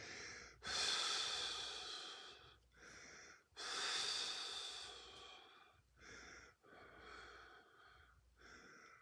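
Slow, deep breaths during a Kundalini yoga class: long airy inhales and exhales, close and clear, two extended breaths followed by several shorter ones, with no talking.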